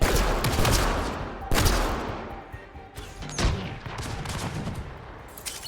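Gunfire from Mass Effect Andromeda breaks out in loud, close bursts of shots about once a second, with heavy impacts and crackling debris between them, and no talking.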